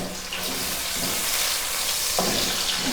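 Chopped onion frying in hot oil with kalonji and ajwain, a steady close sizzle with faint stirring scrapes running throughout, no voices.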